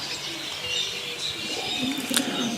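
A flock of racing pigeons leaves release baskets at a training flight, with soft fluttering wingbeats and scattered chirps and coos, fairly faint and continuous under an outdoor hiss.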